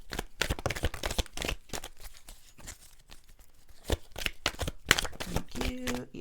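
Tarot cards are shuffled by hand in a quiet room, a crisp, irregular riffling and rustling that runs continuously with soft flicks and slaps of the deck.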